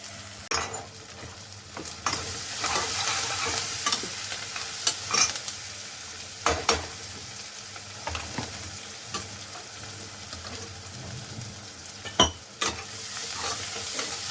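Onions sizzle and fry steadily in a pan, with sharp scraping clicks from a spoon stirring every few seconds; no voices.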